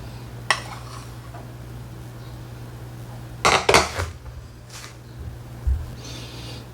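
A utensil stirs flower mushroom powder into a mixture in a bowl, giving sparse scraping and clinking knocks with a short cluster in the middle, over a steady low electrical hum.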